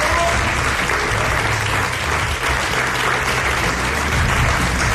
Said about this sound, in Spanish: con un aplauso para que os sientan en todo el mundo.